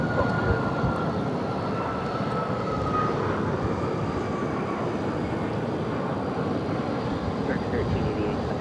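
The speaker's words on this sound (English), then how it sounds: "It's American Airlines Flight 1388 headed to John F. Kennedy International Airport on a 737 MAX 8." American Airlines Boeing 737 MAX 8 jet taking off at Phoenix Sky Harbor: a broad, steady, loud engine roar filling the scene, with voices talking over it.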